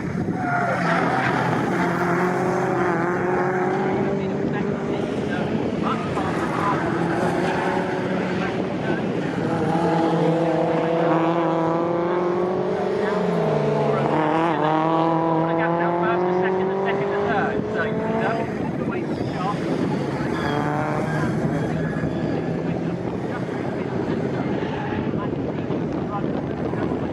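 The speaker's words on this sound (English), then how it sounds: "the MG ZR160 of Golar in the number 12 has made it up to 15th position" MG race cars, including an MG ZR160 and an MGB, lapping Snetterton circuit in an owners club championship race, engines rising and falling in pitch as several cars pass, loud and continuous under a commentator's voice.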